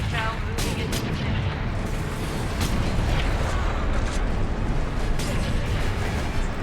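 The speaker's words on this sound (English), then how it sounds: "Artillery shell moving into position." Dense, continuous rumble of artillery fire and booming explosions on a Warhammer 40K Space Marine battlefield, loud and unbroken throughout with scattered sharper blasts layered in.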